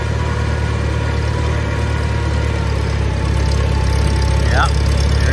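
A 1952 Farmall Super C tractor engine runs under load climbing a hill, a loud, steady low rumble with a constant throb, and a voice speaks briefly over it near the end.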